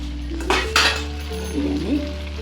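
Home-style fried rice is stirred in a pan, with two loud metal clanks from the utensil early on, then a steady sizzle and softer scraping.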